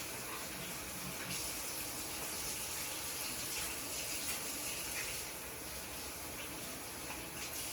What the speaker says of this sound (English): now I'm just going to wash my hands here a little